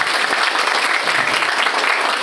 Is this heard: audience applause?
yes